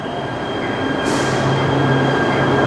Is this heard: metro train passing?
yes